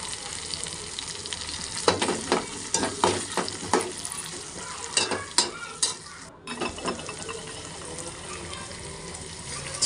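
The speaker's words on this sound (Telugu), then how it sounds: "కరివేపాకు, ఆనియన్స్ ఫ్రై అయిన తర్వాత ఒక టమాటో ఫ్రై అయిన తర్వాత పసుపు," Curry leaves, onions and tomato fry in a pan for a Telangana peanut tamarind rasam, a close sizzle with repeated rhythmic stirring scrapes, then a quieter stretch of frying.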